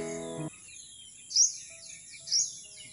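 Birds chirp at a quiet rural railway station around eight in the morning, giving a few distinct, fairly loud high calls with pauses between them against a calm, still background, just after a brief low humming tone ends.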